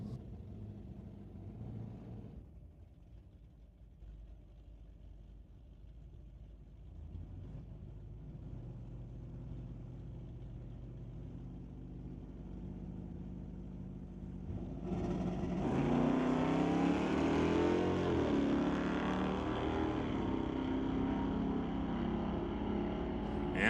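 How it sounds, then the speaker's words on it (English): Drag-racing cars, a Firebird and a Chevelle, on an eighth-mile strip: a steady engine rumble that swells into a louder, sustained roar as they launch and accelerate away. "The Murphy's Law Firebird will race against Ledre for the Muffler Tech Automotive Chevelle."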